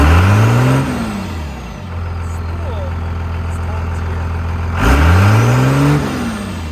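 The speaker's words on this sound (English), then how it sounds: "it does have a very loud, drony, noisy, annoying exhaust" A modified pickup truck engine with a stock intake box cranks and fires up, then settles into a loud, deep, droning exhaust idle, with a second rev swell near the end.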